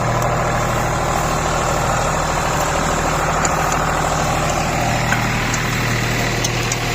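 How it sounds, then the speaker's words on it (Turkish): A TT65 tractor engine runs while pulling a plough in a farm field, giving a steady, continuous, rumbling drone with no change in pace and no voices. "Traktörüm TT65."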